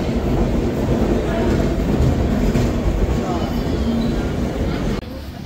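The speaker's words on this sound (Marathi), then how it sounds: "पंचवटी एक्सप्रेस आली" The Panchavati Express arrives at Nashik Road railway station, its carriages rumbling and clattering loudly and continuously with platform noise mixed in, before the sound drops abruptly near the end.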